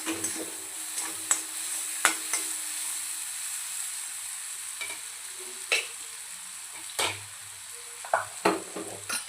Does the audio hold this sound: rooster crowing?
no